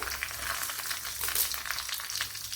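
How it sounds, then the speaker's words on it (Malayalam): Dried red chillies drop into a sizzling mustard seed tempering for a sadya-style parippu curry, producing a dense, close crackle and spitting hiss that keeps going without pause. "ഇവിടെ കടുക് പൊട്ടിയിട്ടുണ്ട് ഇതിലേക്ക് വറ്റൽമുളക് ഇട്ട് കൊടുക്കാം"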